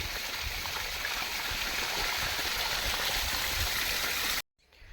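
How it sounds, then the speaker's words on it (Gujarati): Water gushes hard and steadily in a village farm field, a dense, loud rushing that holds without a break, then cuts off abruptly just before the end. "જ્વાળામુખી હોય એવું પાણી પડે જો"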